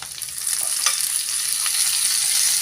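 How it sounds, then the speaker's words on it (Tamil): Tomatoes and onions sautéing in a pan for a karunai kilangu puli kuzhambu, a steady bright sizzle with occasional soft stirring scrapes throughout, no voices. "தக்காளி நல்லா வதக்கி விட்டுக்கோங்க."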